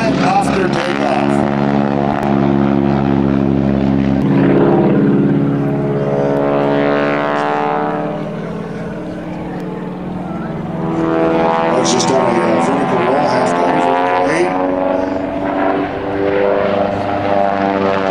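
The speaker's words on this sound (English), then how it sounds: "We have liftoff. Snap roll right after takeoff." A propeller aircraft taking off and snap rolling at the 2004 Bellingham WA Airfest airshow, its engine droning loudly and steadily with rising and falling pitch as it passes, under an announcer's talk.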